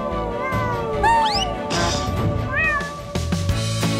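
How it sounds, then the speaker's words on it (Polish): A cat being rescued meows repeatedly in rising, bending calls over a busy background of other sounds, with several distinct meows across the stretch and no speech. "Złapmy kota! Uratujemy jego życie!"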